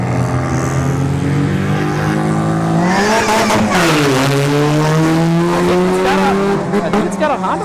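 Drag racing kit car with a Honda motor at a strip, its loud engine revving hard and holding steady, pitch rising through the run with a shift midway, close and continuous.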